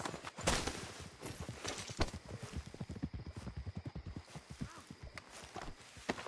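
Rhythmic horse hooves in Red Dead Redemption 2 clip-clop steadily at close range, with occasional louder thumps and a faint snort, no talking.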